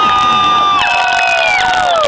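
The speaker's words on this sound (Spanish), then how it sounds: "El aplauso y el grito para el Chavo de San Luis Potosí, México." Loud, dense crowd cheering at a fair with shrill shouts and whoops, sustained throughout the short burst.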